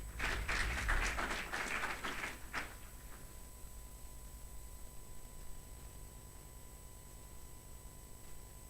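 Audience applause at the closing ceremony of a public leaders programme, a burst of clapping for about two and a half seconds that stops abruptly, leaving quiet room noise and a steady hum.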